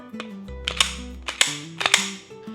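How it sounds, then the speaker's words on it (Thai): Sharp metallic clacks from a Canik TP9 DA striker-fired pistol as its slide is racked back and released, several crisp snaps and mechanical clicks in quick succession, close and fairly loud. "แต่แบบนี้ก็ถือว่าไม่น่าเกลียดอะไรนะครับผมดึงได้ง่ายนะฮะ"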